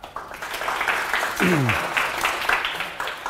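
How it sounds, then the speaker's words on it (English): An audience at a tech meetup applauds briefly, scattered clapping mixed with a voice speaking over it near the middle. "we should give those guys a round of applause for that"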